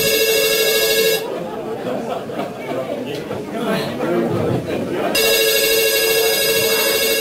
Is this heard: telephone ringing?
yes